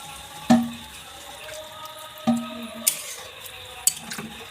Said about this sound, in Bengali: পরিমাণ মতো জল দিয়ে দিলাম